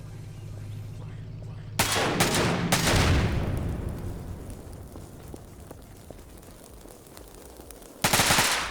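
Gunfire in a video game: a loud burst of rapid shots with a rumbling decay, then a quieter stretch and another sharp burst at the end.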